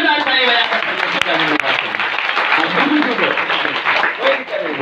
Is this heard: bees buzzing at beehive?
no